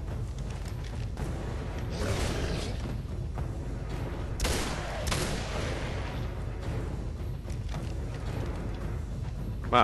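Gunfire in the shooter game Singularity, a dense run of booming shots and blasts with sharp bursts over a constant rumbling mix, loud and continuous, with no talk.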